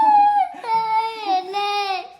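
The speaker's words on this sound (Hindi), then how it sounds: "अभी भी रोने की आवाज़ आ रही है।" A young boy cries and wails close by in a steady, sobbing stream of rising and falling tones lasting a couple of seconds, with no other voices.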